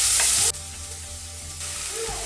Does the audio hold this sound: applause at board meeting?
no